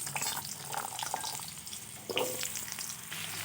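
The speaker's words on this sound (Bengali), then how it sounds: "আমি ওই তেলে আলুগুলোও ভেজে নিচ্ছি।" Potato pieces fry in hot oil in a pan, a steady close sizzle with occasional stirring scrapes and a light bubbling hiss throughout.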